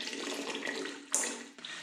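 Melted beeswax being poured slowly while clarifying it, giving a soft, continuous watery flowing and trickling sound, close by, with a brief brighter splash partway through.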